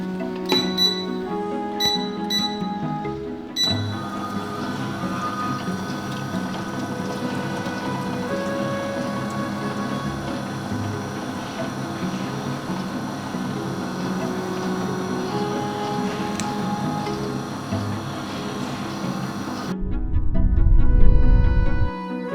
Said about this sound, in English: now that we've got our cream, condensed milk, Davidson plum all in our whisk, we're going to turn it on and get it to nice stiff peaks